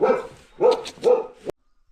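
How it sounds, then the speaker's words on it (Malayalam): A village dog in Ghandruk, Nepal gives three sharp, fairly close barks in quick succession, then falls silent. "ആ നായി ഞങ്ങളെ വൈത്തല വരുന്നുണ്ട് കേട്ടോ"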